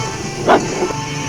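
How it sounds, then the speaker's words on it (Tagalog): A single short dog bark, somewhat distant, over a steady background hum, during a street protest. "yung aso sa likod"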